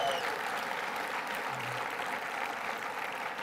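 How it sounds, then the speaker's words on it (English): A conference audience at DoDIIS17 breaks into a sustained, dense round of applause, steady and fairly loud from start to finish with no pauses. "I'm not gonna say another word until I get this really robust round of applause for that great DIA video"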